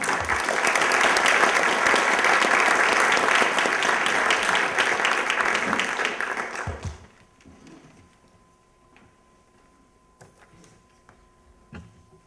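Audience applause welcoming speaker Josh Ruebner at a Chapel Hill forum, a loud, dense burst of clapping that holds steady for about seven seconds, then breaks off into near silence with a few faint taps.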